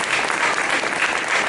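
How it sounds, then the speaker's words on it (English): An audience claps for a team at an event, dense and loud applause from many hands sustained evenly without a break. "Let's go and give a clap for them."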